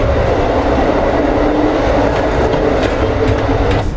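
A long-distance US night train from Washington to Miami rolls on, heard from inside a car. A loud, steady rumble carries rhythmic clickety-clack of the wheels and a few brief metallic squeaks, with no talking.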